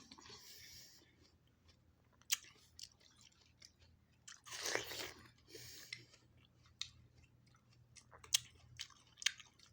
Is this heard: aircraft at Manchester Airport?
no